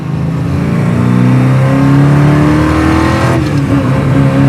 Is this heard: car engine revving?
yes